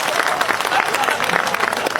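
Audience applause at a Hindi comedy poetry show, a dense, steady patter of many hands clapping at close range, with a voice heard over it.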